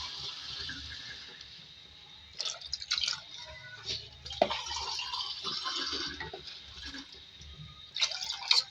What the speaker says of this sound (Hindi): पानी ऐड कर रही हूँ इसके अंदर ताकि हमारी दाल गल जाए